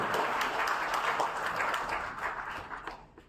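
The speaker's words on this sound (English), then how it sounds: "let's have a round of applause for him, for his work in the blood bank and Sajoba." A seated audience applauds steadily at an event honoring blood bank work, a dense wash of clapping that thins out and fades near the end.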